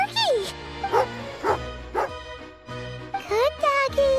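Video game dog yips and barks in short bursts while eating jerky, mixed with game music and chimes, cheerful and up close.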